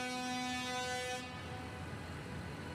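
Tractor horns blare in sustained, overlapping honks from a farmers' protest convoy in Paris opposing a free trade agreement, loud for about a second before fading into a dense rumble of traffic and crowd noise.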